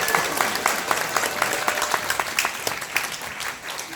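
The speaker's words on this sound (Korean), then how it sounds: "여러분 큰 박수로 환영해 주시기 바랍니다." A crowd at an election-fraud debate forum claps to welcome a speaker. The hand claps are dense and sustained, with a quick, even patter that carries on without a break.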